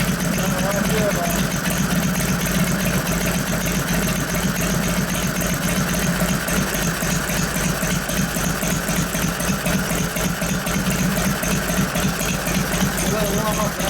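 A 1989 Harley-Davidson Softail with a 93ci panhead engine and a freshly rebuilt Mikuni HSR42 carburetor idles steadily, loud and close, with an even lumpy chug that holds for the whole stretch.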